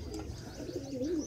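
A pigeon coos nearby, soft throaty warbling notes in a short close-up burst.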